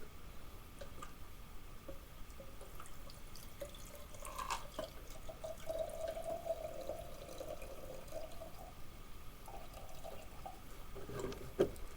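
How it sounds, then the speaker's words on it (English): Cleaning liquid is poured carefully from one container into a glass olive jar, a soft trickle and gurgle over background noise in a workshop during a Studebaker Avanti restoration. "I'm going to pour that carefully into this other jar, olive jar"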